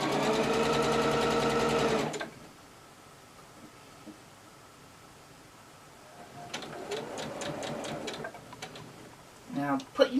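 A sewing machine stitches blouse fabric around the underarm in a short, steady whirring run, then stops. A second, shorter burst of stitching follows, with faint sounds of handling in between.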